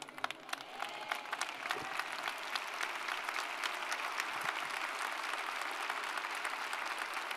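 A church congregation applauds at a Spanish-language Sunday service, a dense, steady patter of many hands clapping throughout at moderate loudness.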